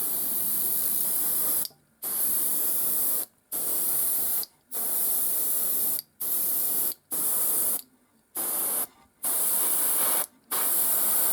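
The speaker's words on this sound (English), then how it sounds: "I'm going to spray a little bit of this on, covering where I want the paint to be flaked off, so mainly the body of the tractor" An airbrush sprays onto a model tractor body in short hissing bursts, about eight even spurts of steady airy spray separated by brief silent pauses, close to the mic with no talk.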